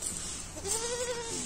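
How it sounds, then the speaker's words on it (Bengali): A farm goat among breeding does and kids gives one wavering, drawn-out bleat close by, rising in a steady voiced cry that lasts about a second over faint background hiss. "দেখো এই যে ছাগলটা এর বাট পেলাম দেখো"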